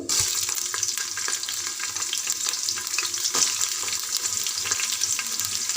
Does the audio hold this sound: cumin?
yes